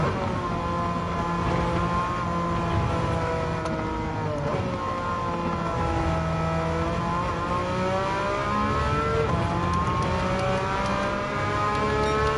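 Racing car engine in the video game Gran Turismo 7, a steady loud drone with rising and falling pitch sweeps as the car accelerates and shifts, running continuously throughout with no talking.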